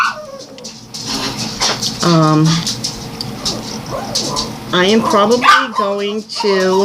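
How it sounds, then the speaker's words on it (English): Small pet dog barking indoors, short yips and whimpery barks scattered under someone talking throughout. "I'm sorry about my dog, my little girl's barking."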